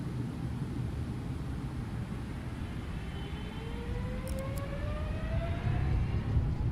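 Boeing 777 engines in X-Plane 12 spooling up to takeoff thrust, a broad roar with whining tones climbing steadily in pitch as the power builds, growing slightly louder toward the end, no talk.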